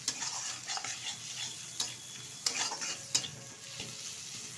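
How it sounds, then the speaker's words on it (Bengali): Onion and egg are stirred in a frying pan: a soft, fairly faint sizzle runs under intermittent scrapes and taps of a spatula. "এখন ভালোভাবে নেড়ে চেড়ে নেব পেঁয়াজটার সাথে ডিমটা"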